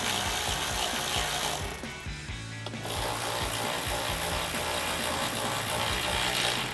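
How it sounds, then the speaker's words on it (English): A ratchet with a 10mm socket tightens the headlight mounting bolts on a 2012-2015 Toyota Tacoma, making rapid close clicking throughout with a short pause partway through before the ratcheting resumes. "Then grab our ratchet and 10mm socket and tighten them down."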